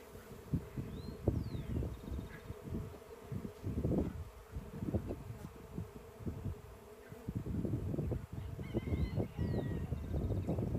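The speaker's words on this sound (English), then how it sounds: "They're swarming. They're swarms." A honeybee swarm on a farm, a dense, continuous buzzing hum from many bees close by, rising and falling in intensity, with faint bird chirps in the background.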